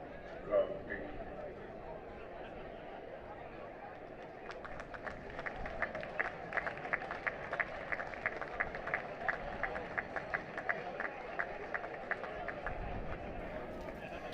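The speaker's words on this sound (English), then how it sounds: "The applause you heard was from some of the spectators on the ground" Spectators at a cricket ground during a Gloucestershire v Hampshire Hawks T20 Blast match clap steadily in a spread-out burst of applause, heard from a distance over a continuous crowd murmur.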